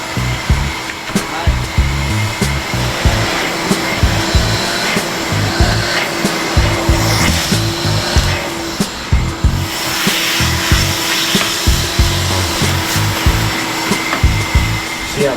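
A vacuum cleaner runs continuously in a shop space, a loud steady motor whine with repeated low thumps and bumps as the nozzle moves around, with no voices.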